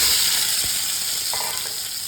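Peeled potatoes frying in hot mustard oil, giving a steady, fairly loud sizzle with a few faint stirring knocks.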